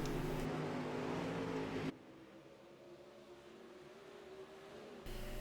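Super late model race cars running a heat race at Volusia Speedway on a dirt oval, a steady distant engine drone rising louder in the first two seconds and again near the end, with no one speaking.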